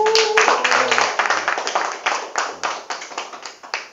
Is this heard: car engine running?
no